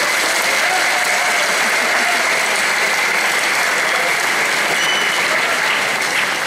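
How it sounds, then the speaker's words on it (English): Sustained applause from an audience at the Missouri Boys State keynote address, a dense, even roar of clapping hands holding steady throughout with no pauses. "You can clap if you want to."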